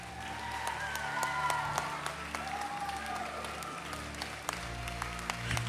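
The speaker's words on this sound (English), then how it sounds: "let's give them another round of applause" An audience applauds a high school production, steady clapping with some whistles and cheers throughout, moderately loud in a hall.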